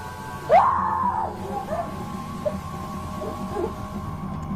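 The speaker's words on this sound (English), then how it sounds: "the woman lets out a guttural scream" A woman lets out a single loud, rising guttural scream that quickly trails off, with no talking, amid a constant hum in an indoor shop.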